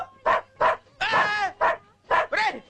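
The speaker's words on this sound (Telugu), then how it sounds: "ఏమిట్రా కుక్క?" A dog barks and yelps in a film scene, six or so loud, close, whining barks in an irregular rhythm with one longer drawn-out yowl in the middle, with no talk over them.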